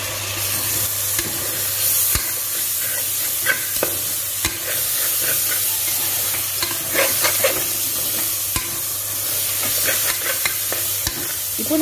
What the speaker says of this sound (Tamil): புதினா வந்து போட்டுட்டு நல்லா வதக்கிருங்க